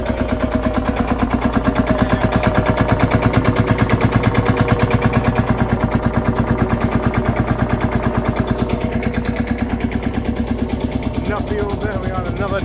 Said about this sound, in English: You can hear the thud of the engine there.